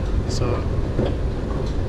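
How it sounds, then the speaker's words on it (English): A train in Singapore heading to Sembawang rumbles with a steady, loud low roar, with faint higher squeals over it and a short spoken word. "train to Sembawang"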